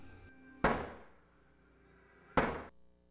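Two heavy, booming thuds about two seconds apart as a door braced with a Linebacker articulating door bar is kicked, each impact sharp and loud with a short rumbling decay, and near silence between the blows.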